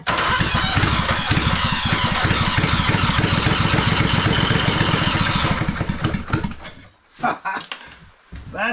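A small engine fires up and runs with the choke on, a loud steady rapid chugging for several seconds before it falters and sputters unevenly toward the end.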